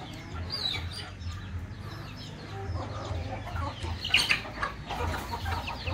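Several native desi chickens cluck softly nearby in a continuous low murmur, with a few sharper calls standing out, no voices.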